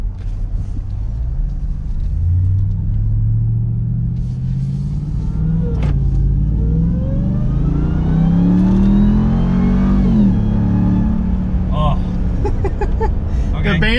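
2022 Ram 1500 TRX engine roaring loudly as it revs and accelerates hard, the pitch climbing steadily over several seconds before easing and rising again, heard from inside the cabin with occupants talking over it.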